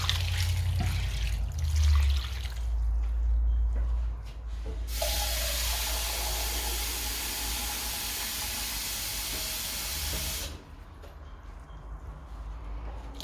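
Water pours steadily into a soup pot holding onions, carrots, potato, ham hock and split peas for pea and ham soup, a close, continuous splashing stream lasting several seconds before it stops.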